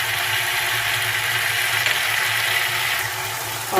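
Beef keema with green chilies sizzles and fries in a pan over medium heat, a steady close broadband hiss with a faint low hum beneath and a brief clatter at the end.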